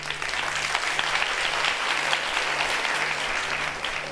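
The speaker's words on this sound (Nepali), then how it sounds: "एक तरफ की ताली सुननी थी" A studio audience on one side of the set claps in a sustained, lively burst during a televised iftar show, steady dense clapping over a faint low hum.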